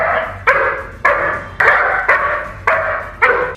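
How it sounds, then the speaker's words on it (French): German shepherd guard dogs barking loudly at night, six forceful barks in a steady repeating rhythm, close and alone. "Leurs aboiements stridents et implacables ont brisé le silence de la nuit."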